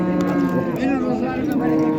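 Dairy cows at the Karshi cattle market lowing in a long, close moo that rises and wavers, set against a busy market murmur and faint chatter.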